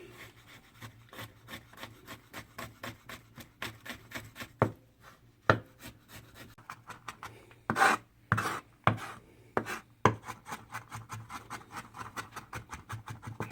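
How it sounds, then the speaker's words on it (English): Kitchen knife mincing three garlic cloves on a cutting board, a close, steady run of quick rhythmic chops and scraping taps, with a few heavier knocks partway through and no talk. "And I'm just going to mince these right quick."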